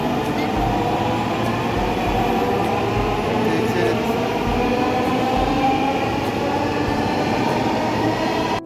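A Dhaka metro rail train pulls away from the platform, its steady loud rumble and rolling wheel noise filling the whole stretch without letup.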